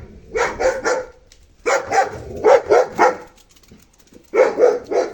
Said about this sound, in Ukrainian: Собака розгавкалася, саме кругом бігає.